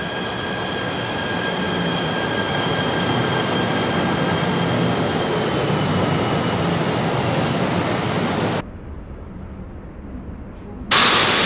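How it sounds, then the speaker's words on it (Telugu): A Batu Caves commuter train pulls into platform 5 at KL Sentral in Malaysia, a loud steady rumble with faint high whine that cuts off abruptly near the end, then resumes. "ఇదిగోండి వచ్చేసింది మన బాటు కేవ్స్ ట్రైన్."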